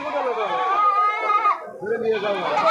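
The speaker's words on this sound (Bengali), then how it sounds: "দুইটা কিন্তু মেয়ে ছাগল আর কি" Goats bleat close by at a goat and sheep market in Koyra, giving a wavering, nasal cry with a short pause, amid people talking.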